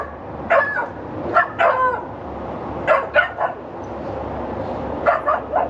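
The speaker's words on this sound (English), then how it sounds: "they put the dogs outside to whine and cry" Dogs bark and whine in short, repeated bursts, a few yelps at a time with pauses between, somewhat distant against a steady background hum.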